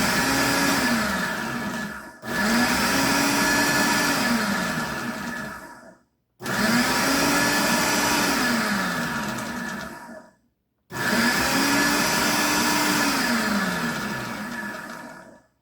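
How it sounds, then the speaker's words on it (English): A really old food processor pulses homegrown tomatoes for salsa in three long bursts, its whining motor rising and sagging through each run, with short silent gaps between pulses and no talk. "This is a really, really, really old food processor."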